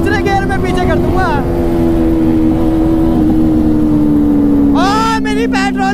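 A superbike in a street race revs hard in second gear, rising whines sweeping up near the start and again near the end over a loud, steady engine drone.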